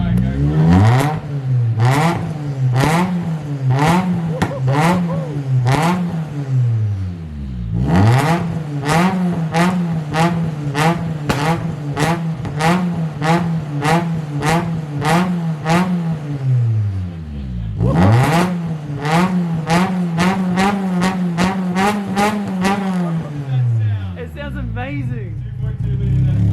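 A Nissan Silvia with a 2.2 litre SR20 engine revs hard in three long bursts, each a loud, rapid stutter of pulses that rises and falls, with brief dips between them.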